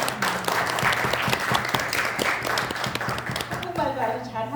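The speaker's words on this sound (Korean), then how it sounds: "박수 한번 주세요." Audience clapping for a descendant of Choi Jae-hyung at a Koryo-saram diaspora history event, dense and steady through most of the stretch, with a voice speaking over it and carrying on as the clapping thins near the end.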